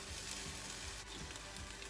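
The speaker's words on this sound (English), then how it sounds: "So now I'm going to pour these potatoes, skin and all, and whole, into a frying pan." Whole boiled potatoes, skins on, sizzle steadily in a hot frying pan, a close, even crackle with no voices.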